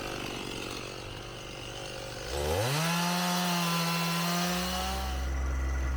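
Chainsaw revs up and bites into the ends of logs being trimmed to fit raised stock tank beds, a loud sustained whine dropping into a steady cutting drone, close by with outdoor background noise before it starts.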